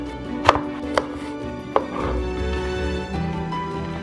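A knife julienning carrots and potatoes on a cutting board gives three sharp, distinct chops about half a second apart, followed by softer scraping and board noise, with no one talking.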